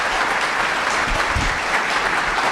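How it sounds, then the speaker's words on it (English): Audience applause at a Toronto mayoral debate in a school setting: a loud, steady wash of clapping from a crowd, continuous throughout with no break. "So give him a big round of applause,"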